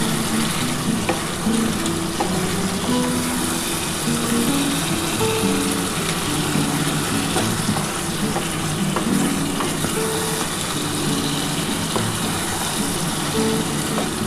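Chicken pieces frying in oil and spices for a Bengali chicken kosha sizzle steadily and loudly for the whole stretch, with occasional scrapes and stirs of a spoon against the pan and no voices.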